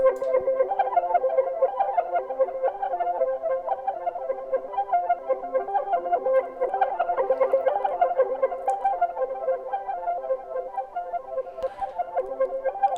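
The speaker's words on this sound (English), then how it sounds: "if we press play, it will move through the sequence, changing the pitch of the sound" A ChordScape Kontakt software instrument steps through a programmed sequence, its processed synth tones shifting pitch note by note in a steady, continuous pattern, clear and alone for the whole stretch.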